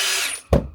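Cordless power drill with a 13mm chuck, set to drill mode at speed 2, gives a brief whir that winds down and ends in a sharp thump, all close and clear.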